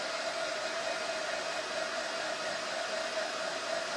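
A heat tool blows a steady, even, close-up whoosh of air while drying paste on a craft project, running without a break and with no talking.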